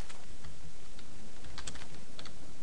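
Rapid clatter of keys on a computer keyboard during a Minecraft Tekkit gaming session, a steady close-up stream of uneven taps with a few louder strikes, no voices.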